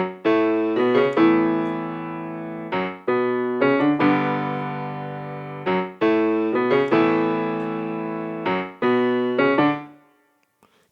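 Piano plays the intro chord progression of "New Every Morning" twice through: sustained, ringing chords with repeated rhythmic figures, clear and close, ending in a fade to silence.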